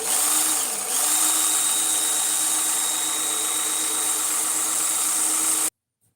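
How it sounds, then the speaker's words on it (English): A knife being sharpened, heard as a loud, continuous mechanical whirring grind that holds steady with one brief dip, then cuts off abruptly just before the end. "We're sharpening a knife and then we're doing some edge retention testing on it."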